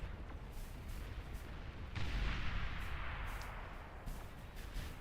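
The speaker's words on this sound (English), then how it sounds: "Huge chain explosion." A huge chain explosion in the real-time strategy game Beyond All Reason, heard as a dense rumble of booms that swells sharply partway through and then rolls on at a steady roar.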